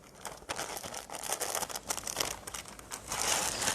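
Plastic piping bag being handled while preparing devilled eggs in a home kitchen, crinkling and rustling in irregular close-up bursts with no voices.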